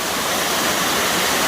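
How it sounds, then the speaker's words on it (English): Several waterfalls converge and tumble down a mountainside on the Appalachian Trail climbing Mount Moosilauke, a steady close, full rushing roar of falling water with no pauses. "There's like 3 different waterfalls,"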